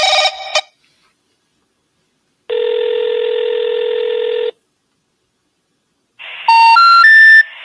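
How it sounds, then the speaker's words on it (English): A telephone call produces a burst of dial tones, a single long steady ring tone, then a rising three-note beep sequence like an out-of-service signal, each loud and clear with silence between. "I'm gonna try to call again. See if we can leave a message."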